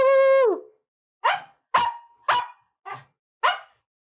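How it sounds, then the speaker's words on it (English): A dog barks several times alone and close by, starting with a long drawn-out howling yip followed by five short sharp barks spaced about half a second apart. "He's better at barking than I am."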